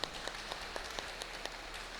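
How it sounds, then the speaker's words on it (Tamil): A room full of people claps for twin siblings' birthday during a special meditation gathering led by a priest; faint, steady distant applause with soft repeated claps. "வாழ்த்து சொல்லுவோமா கைத்தட்டி?"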